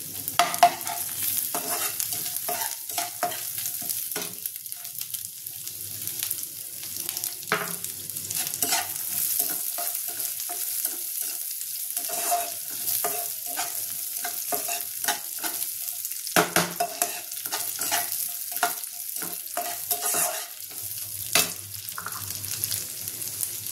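Crushed peanuts and raisins, with grated ginger, stirred in a pan for a stuffed vegetable paratha filling: steady close scraping and soft sizzling with irregular spoon clatters throughout, no talking.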